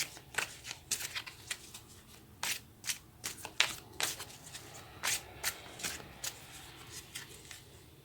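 Tarot cards shuffled by hand in a quiet room, a run of crisp, fairly close riffles and soft flicks in irregular bursts with brief pauses between, no talking.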